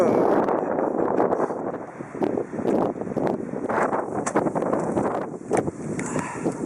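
Gusty wind buffets the microphone in uneven rumbling bursts throughout, loud and close, with rustling mixed in.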